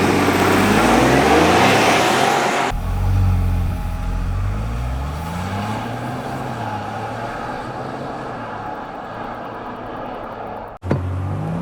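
A Ford Bronco Outer Banks accelerates hard in sport mode, with loud engine revs rising through several gear shifts in the cabin. The engine roar eases to a steadier drone, ending in a sharp click.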